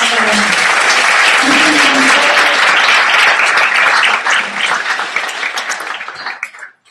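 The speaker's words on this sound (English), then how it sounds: "let me give one more round of applause for our" Loud, close audience applause at an end-of-summer gathering, a dense roar of clapping with some scattered voices, holding strong before tapering off raggedly and stopping at the end.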